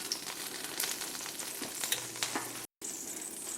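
Trimmed beef fat renders in a Le Creuset Dutch oven, giving a steady close crackling sizzle with scattered pops and a brief gap near the end, no voices over it.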